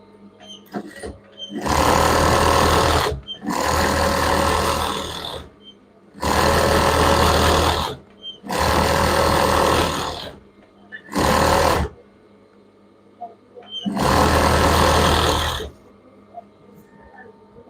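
A sewing machine stitching children's pants runs in six loud, whirring bursts of one to two seconds each, separated by short pauses with faint room noise.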